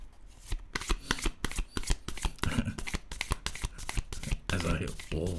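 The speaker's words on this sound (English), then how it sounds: "That was just a really cack-handed shuffle." Tarot cards are shuffled in quick riffling bursts, a rapid papery flutter, with a voice talking over part of it.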